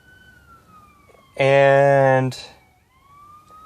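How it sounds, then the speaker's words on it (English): A police car siren sweeps past outdoors, rising loud and close for about a second in a bright wailing burst before quickly fading, while someone talks before and after it. "that's just a police car going by"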